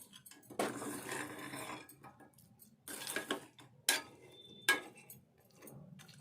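Fried chicken pieces being stirred into chicken pickle in a metal pan, bursts of scraping and clattering utensil noise separated by pauses, with a couple of sharp clinks, fairly close and moderately quiet.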